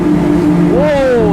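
A Regal 38 SAV motorboat's 900-horsepower engines roar at high revs around 46 knots, pitch climbing as it accelerates, loud and close, with a voice briefly heard over it.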